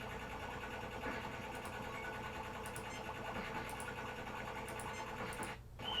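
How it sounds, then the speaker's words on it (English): A matter-antimatter starship engine in Star Trek: 25th Anniversary gives off a steady, dense mechanical hum with a faint rhythmic whir, holding even and continuous before a brief dip near the end. "An unusual matter-antimatter engine, reminiscent of the designs created by the Hukuan of Cygnus 4."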